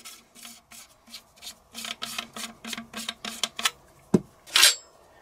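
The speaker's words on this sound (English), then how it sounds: "take your end cap and just unscrew it" Threaded end cap being unscrewed from the magazine tube of an RIA VRPA40 pump-action shotgun: a run of quick metallic rasping turns in steady rhythm, close up, ending with a couple of sharper clicks and a bright scrape.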